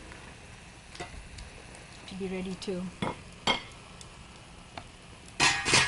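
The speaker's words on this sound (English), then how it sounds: "now you hear the spluttering of the mustard seeds" Mustard seeds splutter in hot oil while a beetroot dish cooks, giving scattered sharp pops and crackles over a low sizzle, with a dense burst near the end; a voice speaks briefly in the middle.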